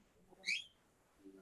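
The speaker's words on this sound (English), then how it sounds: "A cockatiel and a parrot." A cockatiel or parrot lets out a single short, high chirp, loud against a quiet room with faint voices murmuring before and after.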